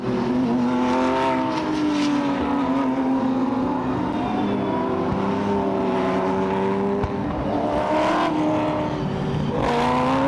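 Sports sedan race cars at Sydney Motorsport Park, loud engines droning and revving continuously with rising and falling pitch as the cars run together.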